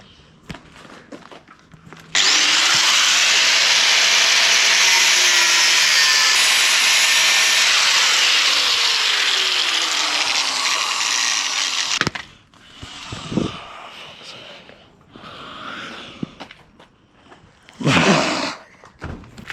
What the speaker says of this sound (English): Now we've cut the bolt